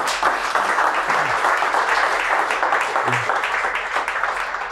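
An audience in a sports bar applauds during the public recording of a podcast's 100th anniversary episode, loud, dense clapping that carries evenly from start to finish with faint voices beneath.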